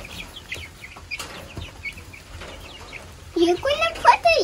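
Chickens near a backyard coop cluck softly in scattered calls in the background, with a voice chattering over them toward the end.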